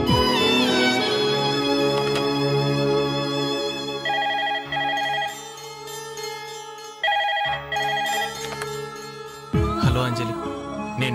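A telephone rings in a Telugu film scene, its tone set over a sustained musical background, with repeated ringing bursts in the latter half of the clip and no speech.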